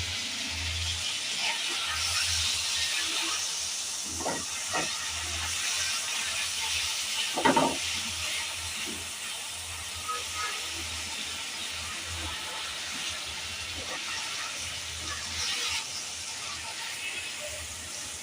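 Chicken frying in a pan with soy sauce, a steady broad hiss and sizzle throughout, with occasional brief clinks and a few low bumps.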